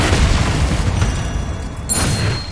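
A loud, sustained booming blast from a Bombarda or Confringo spell in a Harry Potter video game, rumbling throughout with a brief bright crackle near the end and no speech.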